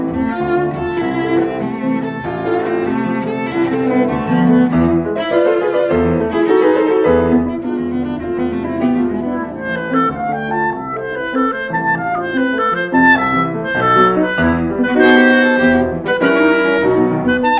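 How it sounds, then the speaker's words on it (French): Clarinet plays a flowing phrase in a masterclass setting, with dense sustained notes and piano accompaniment underneath, loud and close with no talk. "ça sonne comme ça, la clarinette."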